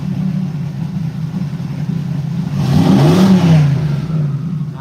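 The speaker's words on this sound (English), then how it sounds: "There's a dump truck muffler." A car engine with a loud dump truck muffler runs on its first heat cycle, a deep steady rumble close by that swells briefly into a rev before settling back.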